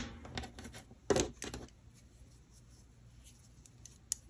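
Scissors snip through crochet yarn with a single sharp cut standing out amid faint rustling and handling noises, close and quiet.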